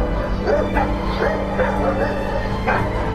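Two dogs bark repeatedly at an intruder, a series of loud, close yips and bow-wows spread across the moment over a steady low background hum.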